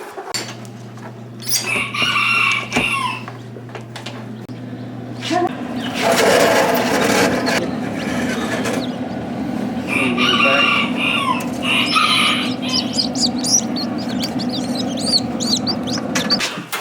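Serama bantam chickens crow and cluck close by, with several drawn-out crows and bursts of clucking, brief wing flapping and a steady low hum underneath.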